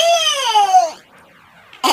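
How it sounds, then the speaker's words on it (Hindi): A cartoon child's wailing cry, a high drawn-out sob that slides downward and fades over about a second, followed by near silence and a brief burst of noise at the end. "ये बच्चे के रोने की आवाज कहाँ से आ रही है?"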